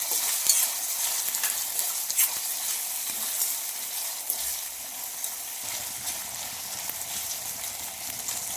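Three large chopped tomatoes sautéing in a pan with onions for paneer bhurji, giving a continuous bright sizzle with intermittent stirring scrapes, close and fairly loud, no voices.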